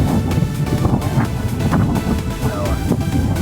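Strong wind buffets the microphone at the Davao–Samal bridge construction site in a steady, rumbling roar with gusty surges throughout, no voices standing out.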